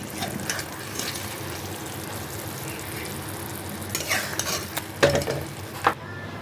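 Hilsa fish cooked in coconut milk sizzling in a wok as the oil separates, with a steady low bubbling sizzle and a few sharper stirring scrapes and clinks near the end.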